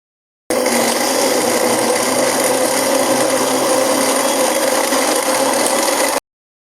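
A blender grinds pineapple with ice for fresh juice, producing a loud, steady, coarse whirring roar that starts abruptly and stops cleanly after about six seconds, with no voices.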